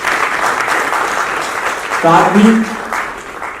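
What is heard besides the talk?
loud applause welcoming a guest at an event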